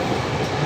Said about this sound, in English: the train is now in Eastern Railway of Indian Railway network